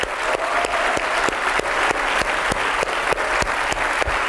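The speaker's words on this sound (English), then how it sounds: "Let's have a big round of applause for all the faculty members as well." A university keynote audience at DAVV Indore claps for faculty members, giving steady, full applause with sharper individual claps standing out in an uneven rhythm.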